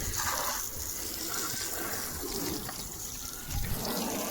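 Water sprayed from a hose over a Maruti WagonR during a car wash at home, a steady close rushing gush with slight surges, no talking.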